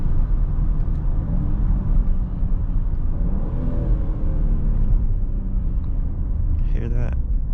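A 2023 Lincoln Nautilus engine rumbles steadily and low throughout after a downshift at night, revving slightly, with someone talking over it.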